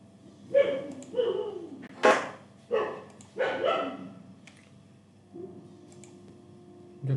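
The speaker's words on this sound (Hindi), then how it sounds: "जब क्लास स्टार्ट होती है तभी इसको आता है भौंकना" A dog barks in a series of sharp, fairly close barks at an uneven rhythm, with quiet gaps in between and a low background hum.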